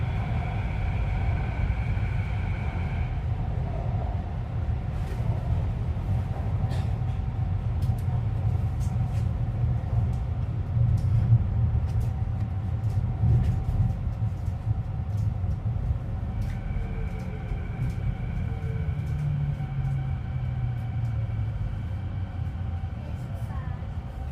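A Vancouver SkyTrain metro train rides along with a steady low rumble and a whining motor tone that fades in the middle and returns, heard from inside the car.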